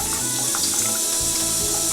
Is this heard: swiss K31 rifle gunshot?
no